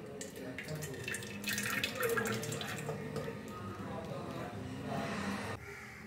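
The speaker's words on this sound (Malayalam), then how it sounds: "നമുക്ക് നെല്ലിക്ക അല്ല പഞ്ചസാര ഉരുക്കിയത് അരിപ്പയിലേക്ക് ഒഴിച്ചു കൊടുക്കാം" Melted sugar syrup pours into a strainer while making gooseberry syrup, a steady liquid trickle and splash with faint kitchen clatter, running continuously and stopping near the end.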